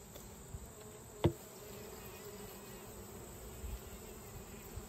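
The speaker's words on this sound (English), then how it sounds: "A lot of bees on the inner cover." Honeybees crowd the inner cover of a hive, giving a steady, close, low buzzing hum throughout, with one sharp knock partway through.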